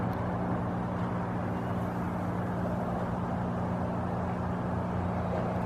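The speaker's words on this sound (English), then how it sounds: "Hear the traffic up behind me." Road traffic in Sitka, Alaska, heard as a continuous low rumble and hum of passing vehicles, steady and moderately distant with no distinct horns or voices.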